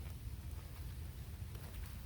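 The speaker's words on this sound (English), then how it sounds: "The rain's getting colder." Cold rain falls steadily outdoors during bowhunting practice, a soft, even wash of patter with a low rumbling undertone, faint and continuous without voices.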